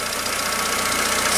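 A small engine drives a car alternator during a battery charging test, its steady mid-pitched running hum and faint knocking rhythm continuous and close throughout.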